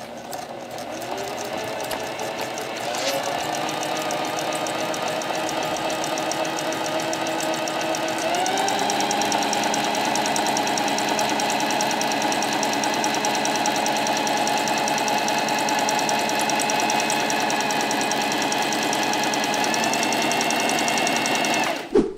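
A Singer Facilita Pro sewing machine stitches an overlock-type stitch steadily and continuously, its rapid mechanical whir picking up speed after a few seconds and running loud until the end.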